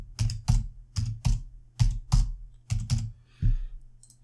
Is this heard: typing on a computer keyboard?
yes